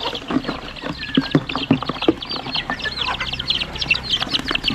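Chickens cluck and chatter close by in a busy, continuous stream of short, overlapping calls, with scattered louder squawks and no talking.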